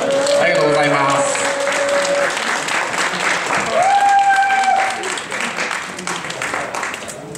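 Applause from the crowd at a demoscene festival's prizegiving and closing ceremony, continuous clapping under a host speaking and music with sustained tones, fading somewhat toward the end.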